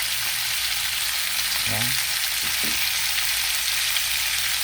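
Carrots fry in a pan, cooked with other vegetables and no meat, producing a constant bright sizzle throughout, with a brief spoken word partway through.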